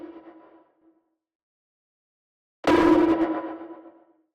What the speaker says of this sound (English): if you've got the master reverb on